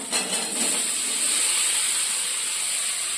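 Chunks of potato tipped into a hot pan of oil with ground cumin for aloo paratha filling set off a loud, steady hiss that holds evenly from start to finish.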